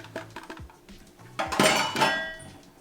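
A spoon mixes thick brownie batter in a bowl, with a few light clinks early on, then a louder run of scraping and clattering against the bowl in the middle.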